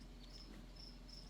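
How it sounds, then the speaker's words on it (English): Crickets kept indoors as feeder insects chirp in a room, thin high trills that repeat at intervals over a low background hum, ending in a brief sharp noise. "You can hear the crickets going right now."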